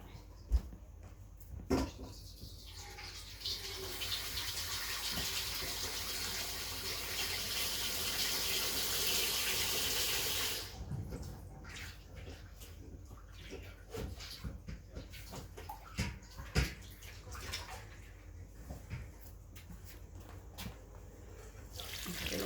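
A kitchen tap runs steadily into a sink or basin, filling it with water to soak freshly picked vegetables, a continuous close gush that stops about halfway, followed by scattered clunks and splashes.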